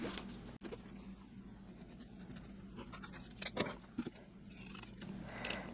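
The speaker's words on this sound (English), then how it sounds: "here again, we'll be cutting through 4 layers of fabric" Pinking scissors chew through four layers of quilting fabric in a quiet room, giving faint, uneven crunching snips with a few louder cuts near the end, alone with no speech.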